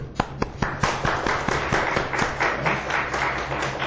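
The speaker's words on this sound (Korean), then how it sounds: "우리 이 친구들 박수 한번 쳐줘요" A church congregation claps for young Thai visitors at a Sunday service, opening with a few sharp, evenly spaced hand claps nearby that quickly build into fuller, rhythmic group applause.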